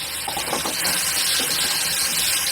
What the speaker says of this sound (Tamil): இந்த தக்காளி வெங்காயம் நல்லா வதங்கிக்கிட்டு இருக்கு